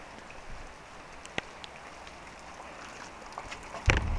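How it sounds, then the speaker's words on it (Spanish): Heavy rain falling outdoors near a canary flight aviary, a soft continuous patter with scattered louder drips and one sharp knock near the end, without speech. "Está lloviendo hoy mucho."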